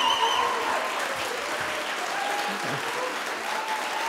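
Audience at a Vancouver mayoral debate applauding after a candidate's statement, a steady wash of clapping heard from a distance at moderate level, with faint voices mixed in.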